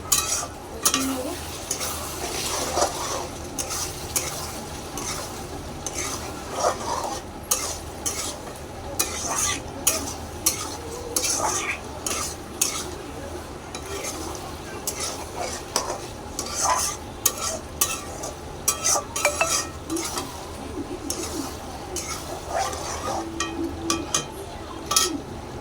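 Chicken with spices fries in a pan, a steady sizzle running beneath frequent scraping and clinking stirs of a utensil against the pan, close and irregular, with a faint voice at times.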